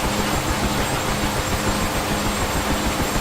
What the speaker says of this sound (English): Okay, we're idling normally.